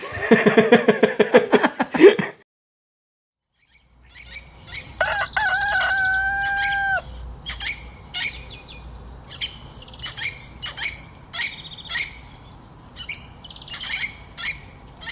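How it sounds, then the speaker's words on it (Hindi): Birds call at dawn around a village homestay near the jungle in Satpura: a rooster crows near, then repeated chirps and bird calls follow at a steady pace over a quiet background. Someone speaks briefly at the start. "यहाँ पे बीच में तो गांव है और दो तरफ से पक्षियों की आवाज़ आ रही है।"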